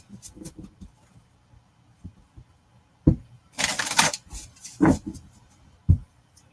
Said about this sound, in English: I'm going to shuffle up my cards here.